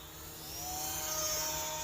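Electric motor of a small Eachine Mini P-47 Razorback RC model airplane in flight, a whining buzz that rises in pitch and loudness as the throttle opens, steady and alone without voices.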